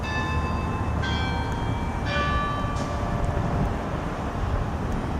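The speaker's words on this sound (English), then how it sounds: "just listen to those bells. That's coming from the Scottish Rite Cathedral." Bells of the Scottish Rite Cathedral in Indianapolis ring out at a distance, a few clear tolling strikes fading over a steady outdoor hum.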